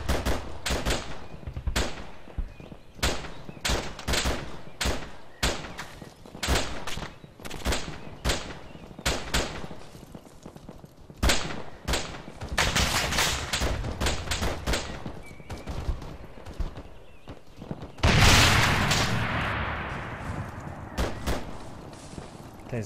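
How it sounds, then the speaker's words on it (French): Allied artillery fire in the video game Arma 3, a rapid run of sharp, loud blasts and rattling bursts that come in quick succession, ending in a heavier rumbling explosion with a long decaying tail. "Ah, c'est l'artillerie ça je pense."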